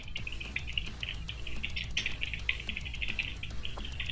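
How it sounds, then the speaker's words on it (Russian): Seagulls call in World of Warcraft, inside the Maw of Souls dungeon, as a steady stream of bright, chirping cries over a low ambient rumble throughout. "О, чайки."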